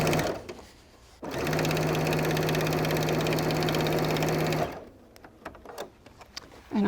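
A sewing machine edge stitching a handbag runs in one steady, close burst of a few seconds with a fast mechanical whir, set between quiet handling noises before and after.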